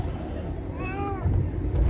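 A single drawn-out cat meow rising and falling in the middle, moderately close, with indoor background murmur and a soft voice around it.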